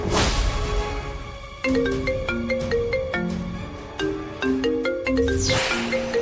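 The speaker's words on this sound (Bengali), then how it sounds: "এতবার করে ফোন করছে কেন?" A phone rings with a melodic electronic ringtone, its tone pattern repeating several times loud and close, with no voices over it.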